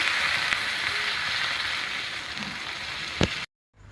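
Spice paste with potatoes frying in a pan as water is poured in for a fish curry, giving a steady, close hiss of sizzling with a brief sharper burst near the end before the sound cuts off.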